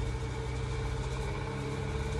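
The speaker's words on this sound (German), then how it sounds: "Und genau in diesem Moment fängt der Traktor wieder an zu rattern." A tractor engine rattles and rumbles in a steady, continuous low drone with a rough idling texture, fairly close and with no voices over it.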